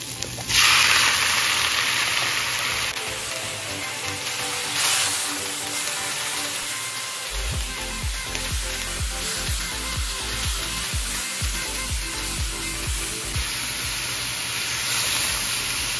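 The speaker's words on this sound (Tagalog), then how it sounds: "Iba-brown muna natin konti yung ating karne para lumabas yung sarili ng mantika." Meat browning in hot oil over sautéed garlic and onion for a Batangas-style caldereta, giving a loud, continuous sizzle and hiss with occasional stirring, heard close and without talk.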